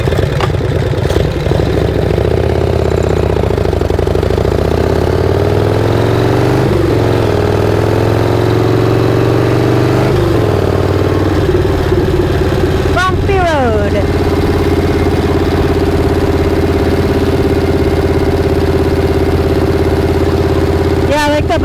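Motorcycle engine idling a little higher than normal, a steady close low hum with stable harmonics running throughout, a few brief clicks and small shifts in pitch partway through.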